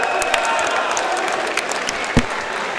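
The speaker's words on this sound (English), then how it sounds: "The crowd has been fantastic tonight, and this has been another brilliant fight as well." A boxing event crowd applauds steadily, with dense clapping and a few sharper claps standing out close by.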